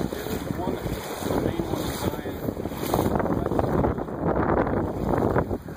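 Flowing water of the East Fork of the Virgin River in Zion National Park, a steady rushing wash close by, mixed with wind buffeting the microphone throughout.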